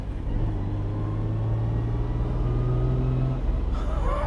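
Ferrari Dino 246GT on the move, its engine giving a steady low drone with a held tonal hum that shifts pitch slightly, rolling continuously before a brief change near the end.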